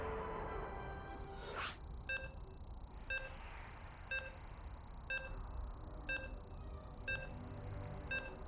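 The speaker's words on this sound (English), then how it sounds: "As you are hearing the beeps, we are now loading into our next map." Evenly spaced electronic beeps, about one per second, ring out while the next map loads in a competitive 2v2 real-time strategy match, clear over a quiet background.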